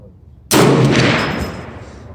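One loud close rifle shot from a 450 Bushmaster fired at a 100-yard range: a sharp, sudden blast that decays into a long rolling echo.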